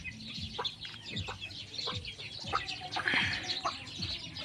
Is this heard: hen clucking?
yes